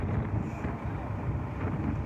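Strong wind buffeting the microphone at the Batemans Bay evacuation centre during a bushfire, a steady loud low roar with gusty rumble filling the whole stretch, no voices.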